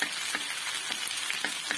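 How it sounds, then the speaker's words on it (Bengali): Chopped garlic frying in oil in the middle of a pan of mixed winter vegetables, giving a steady, soft sizzle with faint scattered crackles and no voices. "এখানে কিছুটা রসুন কুচিয়ে নিয়েছি তো মাঝখানে দিয়ে হালকা ভেজে নেব রসুনটাকে"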